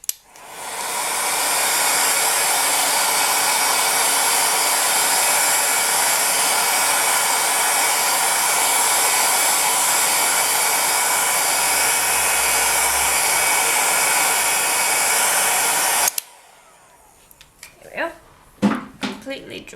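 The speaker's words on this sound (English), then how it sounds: "You can also use a hair dryer, and we'll just dry it." A hair dryer blows on alcohol inks over polymer clay, a loud steady whoosh for about sixteen seconds that then cuts off abruptly. A few light taps and handling noises follow.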